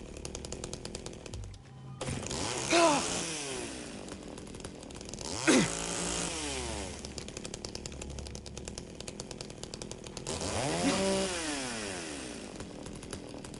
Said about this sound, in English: Also, I love how you just hear the chainsaw.